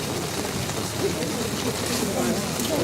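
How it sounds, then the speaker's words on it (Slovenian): Steady rain falls over an outdoor memorial ceremony at Rudnik, a dense, even hiss of drops on surfaces that holds at a constant moderate level throughout. "ker pada dež"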